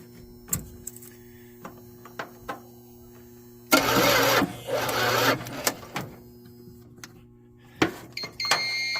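A 1979 Dodge engine cranking over and trying to start, short clicky bursts at first, then a loud sustained cranking run lasting a few seconds, followed by more intermittent clicks and another brief crank near the end.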